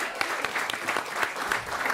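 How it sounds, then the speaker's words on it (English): An audience at a food systems panel during Climate Week claps in a sustained burst, many hands close and lively, with a few sharper individual claps standing out from the dense, even applause. "Give her a round of applause."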